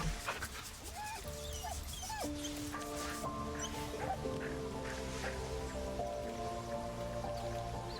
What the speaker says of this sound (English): I can pet the dog.